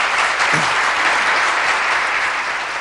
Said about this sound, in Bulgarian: Аплодисменти, да, мисля, че са заслужени.